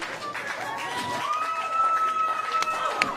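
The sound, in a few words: wrestling crowd cheering for Thunder Rosa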